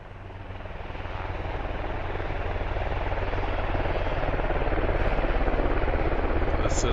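A helicopter in the combat game Squad drones steadily with a low rotor rumble and engine whine, holding close and fairly loud throughout, with no speech.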